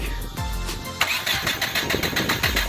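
A Subaru GC8 with a swapped, unknown engine cranks with a rapid rhythmic starter chatter, then catches and fires into a loud, rough running engine, close up, with no talking.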